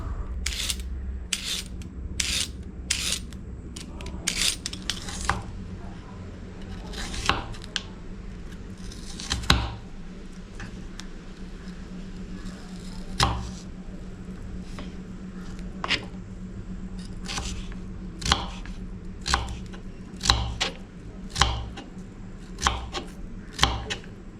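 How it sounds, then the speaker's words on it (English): A knife finely dices a carrot into small cubes on a board, producing irregular sharp chopping taps that come in quick bursts and then more spaced strokes, close and fairly quiet over faint room hum. "carrot, which I'll just cut in small cubes, like finely cut"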